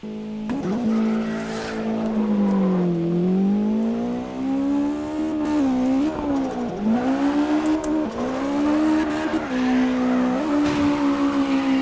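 A game car in CarX Drift Racing drifts with a continuous loud engine wail rising and falling in pitch alongside tire squeal, ending in a crash, heard alone without talk.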